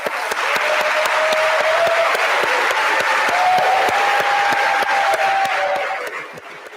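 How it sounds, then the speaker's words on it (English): Sustained applause from a ceremony audience for dental hygiene students at a dental school transitioning ceremony, steady and loud throughout with a faint whistle or cheer above it, then tapering at the end. "let's give them a round of applause."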